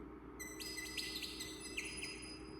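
Synthesizer patch in Alchemy imitating bird song: bright, rapid chirps and tweets in short repeated bursts, loud and close over a steady low hum, with no talking.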